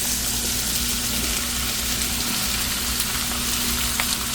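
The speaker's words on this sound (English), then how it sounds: "That butter is sizzling, so I'm going to go ahead in that pan with our veggies." Vegetables hit hot butter in a pan and fry with a loud, continuous close-up sizzle and crackle, steady from start to finish.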